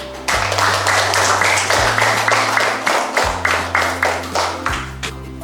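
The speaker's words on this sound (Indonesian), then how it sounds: "Silakan beri tepuk tangan." Fifth-grade elementary class clapping in a quick, steady rhythm, many sharp claps in even succession, loud and close, over low sustained tones that step down in pitch.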